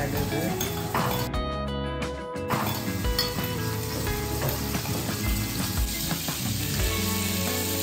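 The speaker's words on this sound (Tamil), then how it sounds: "முதலாவதாக கடுகை போட்டு தாளிக்க போகிறோம்." Mustard seeds sizzle and pop in hot oil in a pan for tempering a Sri Lankan tuna milk curry, a steady loud frying hiss with occasional metallic clinks from the pan.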